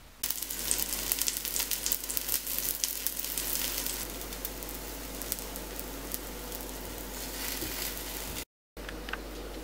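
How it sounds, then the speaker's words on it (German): Zucchini fritters fry in hot fat in a pan, giving a steady, close crackling sizzle that runs throughout and cuts out briefly just before the end. "Dann nehmen wir eine Pfanne, erhitzen ein bisschen Fett und"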